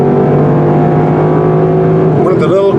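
A 2021 Lexus LC500 Convertible cruising on the road gives a steady, even engine hum with tire and wind noise, and a voice briefly cuts in near the end.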